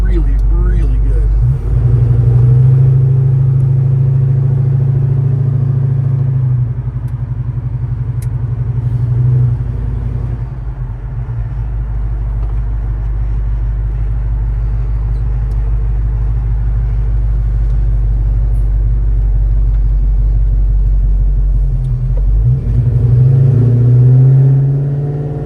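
A 1968 Chevrolet Chevelle Malibu engine rumbles steadily from inside the car while driving on a crisp cold day, a loud low drone rising with throttle and easing back as it cruises, with someone talking over it throughout.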